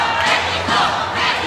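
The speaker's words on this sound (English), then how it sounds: "the Mexican fans again cheering Mexico, and those sounds are cascading down here at the convention center in downtown LA" Boxing fans in a large convention-center arena in downtown Los Angeles chant and cheer for Mexico, a dense, loud crowd roar with rising swells of voices filling the hall.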